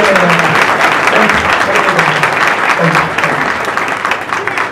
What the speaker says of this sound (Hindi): जोर से ताली बजा के